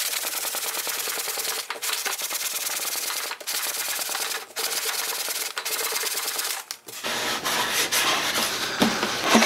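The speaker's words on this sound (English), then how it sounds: "so I need to sand that off" Abrasive sanding across the waxy inner surface of a concrete form, a steady broadband scratching that runs continuously with brief pauses between strokes, close and fairly loud with no talking.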